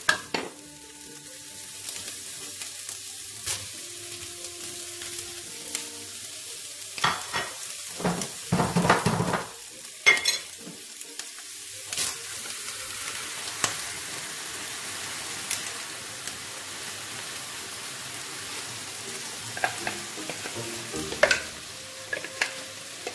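Onion frying in a pan crackles with soft continuous sizzling, with repeated scraping and clattering stir strokes of a utensil, including a busier burst of stirring partway through.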